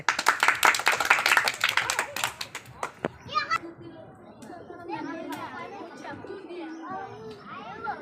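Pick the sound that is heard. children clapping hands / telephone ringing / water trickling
children clapping hands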